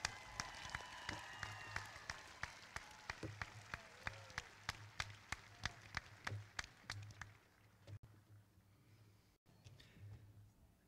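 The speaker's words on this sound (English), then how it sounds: "A final round of applause for all of our scholarship recipients." Audience applause for scholarship recipients at the 2021 Geneva High School commencement, faint and distant, with sharp individual claps in a steady pattern that thin out and fade after about eight seconds.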